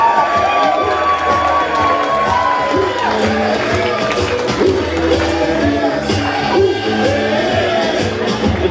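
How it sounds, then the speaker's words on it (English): Wedding guests at Maggiano's cheering and shouting, a loud, dense crowd roar with whoops and screams over music, continuous throughout. "Ladies and gentlemen, scream and shout for Kelly Rosario and Don Forsythe."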